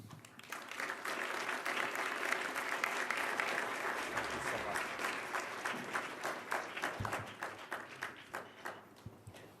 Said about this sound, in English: I think you also heard a warm applause that your call to action was well received.